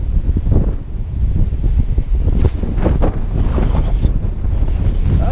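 Wind blows across a lake during a cold-weather fishing outing, a loud, steady, low buffeting roar rushing against the microphone throughout with gusty surges and no voices.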